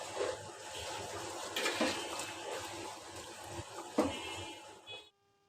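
Hot water pours off half-boiled raw jackfruit through a strainer in a home kitchen, a continuous splashing rush with a few louder spatters that stops suddenly near the end.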